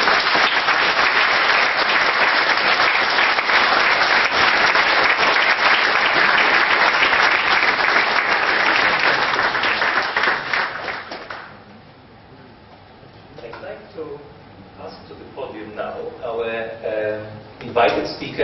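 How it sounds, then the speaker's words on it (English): An audience at the ICEGOV2007 closing ceremony breaks into long, steady applause that fills the room for about ten seconds, then dies away as a speaker resumes talking. "give yourselves a round of applause"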